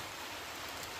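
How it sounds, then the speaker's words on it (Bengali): Rain falls steadily onto surfaces outdoors, a faint, even hiss of drops with no distinct pattern and no talk. "বৃষ্টি এসে গেল"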